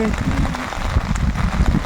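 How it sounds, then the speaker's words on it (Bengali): Heavy rain falls in Braga, northern Portugal, a dense, steady hiss of drops over a short stretch, with a voice talking over it. "প্রচন্ড বৃষ্টি হচ্ছে"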